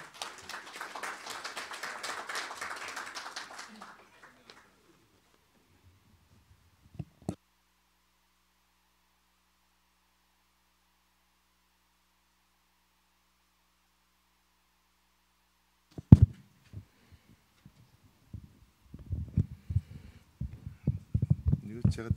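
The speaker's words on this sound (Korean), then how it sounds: "큰 박수로 맞아주시기 바랍니다." Applause from a breakfast forum audience welcoming a speaker, a dense clatter of claps for about four seconds before it dies into near silence, followed later by scattered faint knocks and handling noises.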